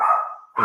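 A dog barks at guests arriving at the house, two loud close barks in quick succession with a brief gap between them.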